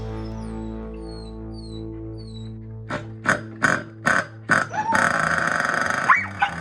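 A dog barks and grunts in a series of short bursts, followed by the loud rumbling roar of a monster truck engine, with faint birdsong in the background earlier.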